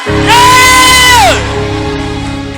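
A church congregation screaming and shouting during a sermon: a loud, sustained cry that holds steady, then slides down in pitch, leaving a noisy crowd roar behind it.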